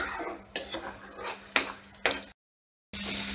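Onion and garlic paste is sautéed in a pan for egg masala: a sizzling hiss broken by a few sharp clinks and scrapes of the spoon against the pan, then a brief silence before the frying resumes.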